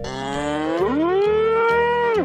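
A cow or bull moos in one long, loud, tonal call that rises, holds steady and drops off at the end, close by with no talk.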